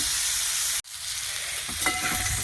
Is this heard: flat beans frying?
yes